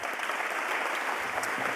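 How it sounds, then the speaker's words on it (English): Applause from an event audience in New Orleans welcoming Raj (Rajiv Shah), a steady, moderately quiet wash of many hands clapping together. "So give him a round of applause."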